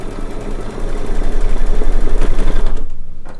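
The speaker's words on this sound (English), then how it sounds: "I'm just going to hold that in place while it stitches down that circle" A sewing machine runs steadily, stitching down a fabric circle for a flower quilt block, its rapid needle rhythm loud and close before it slows and stops near the end.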